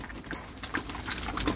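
Pigeons scramble over feed nearby, making a quiet, busy patter of scuffling and pecking with faint fluttering, brief and close.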